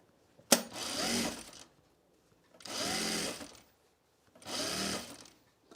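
A sewing machine stitches the hem of a self-drafted blouse in three short runs, each a quick whirring burst of rapid stitching separated by brief pauses, close and clear with no talking.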